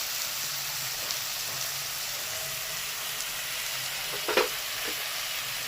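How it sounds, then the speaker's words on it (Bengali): Turmeric and ground spices sizzling in a pan with a little water, a steady soft hiss with a brief stir or clink near the end, fairly quiet and without talk. "একটু সামান্য জল দিয়ে মশলাগুলো অ্যাড করবো এবার দিয়ে দিচ্ছি হলুদ গুঁড়ো"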